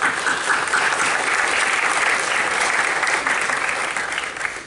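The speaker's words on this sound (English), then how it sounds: "if we can give them a round of applause" An audience at a CompTIA ANZ community meeting applauds the executive council members, steady sustained clapping from a roomful of people that holds evenly before easing slightly at the end.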